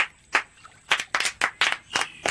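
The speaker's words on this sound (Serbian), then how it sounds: "Aplauz, to je kada ovako pljeskate rukama." Hands clap in a short run of about nine sharp, separate claps with uneven spacing, close and crisp against a quiet background, with no talk.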